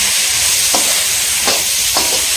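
Tomatoes fry in a pan with onion, green chilli and coconut for a paneer gravy: a steady loud sizzle broken by three distinct scraping stir strokes, with no talking.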